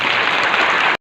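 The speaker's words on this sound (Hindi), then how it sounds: "एक बार जोरदार ताली।" Loud, dense applause from a seminar audience at an institute in Bhilai, steady clapping filling the whole second before cutting off abruptly.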